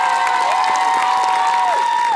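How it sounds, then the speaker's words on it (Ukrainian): Studio audience cheering and clapping on a Ukrainian TV show, a dense loud crowd roar with steady clapping and some high shouts, continuous throughout. "Та не плескайте, не треба."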